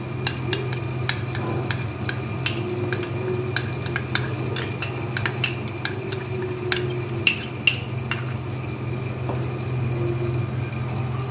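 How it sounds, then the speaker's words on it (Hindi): A utensil scrapes and taps steadily against a pan while a milk mixture for mango kulfi is stirred, with irregular metallic clicks over a constant low hum and no voices. "इसे चलाते जाएं ताकि ये पकता रहे"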